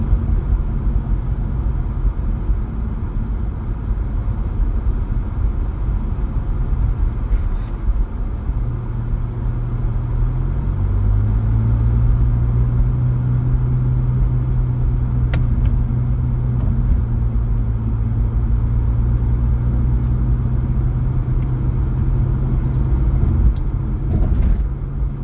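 Car driving onto the Long Island Expressway (I-495) in Queens, New York, a loud steady low road rumble and engine drone, with the engine pitch shifting midway and a few faint rattles, no talk.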